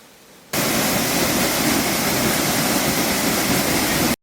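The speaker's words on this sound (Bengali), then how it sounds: "পাহাড়ের বুক চিরে দুধ সাদা বরফ গলা জল ঝর্ণা হয়ে নেমে এসেছে" A snowmelt waterfall in the Himachal mountains between Sarahan and Sangla pours down in a loud, steady, close rush of white water that surges in after a brief quiet moment and holds unbroken, with no voices.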